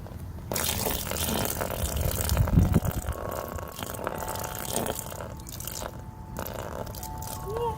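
Water sprays and splashes at a children's splash pad, a close, uneven wet hiss with bursts and squishy drips that rise and fall over several seconds, alone without talk.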